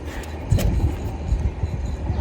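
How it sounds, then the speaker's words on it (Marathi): Low, steady rumbling of a train passing, with rhythmic thuds rising and falling, fairly close and loud throughout. "ट्रेनचा पण आवाज येतो इथे"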